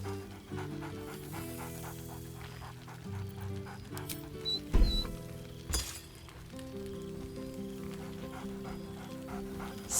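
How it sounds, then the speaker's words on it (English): Scratch, the dog companion in Baldur's Gate 3, pants and gives a couple of short excited barks midway, set against a steady layered musical backdrop. "Scratch barks merrily in something like agreement"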